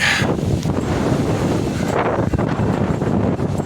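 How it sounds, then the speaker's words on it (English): Wind gusting steadily across the microphone along a roadside near a state-center marker with flags, a continuous broadband rush that stays loud throughout with no talk. "the wind's blowing pretty good"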